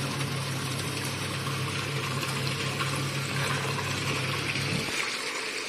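Croma semi-automatic washing machine agitating continuously on the heavy wash setting, a steady churning, sloshing water noise with a low motor hum that drops out near the end, close and without speech.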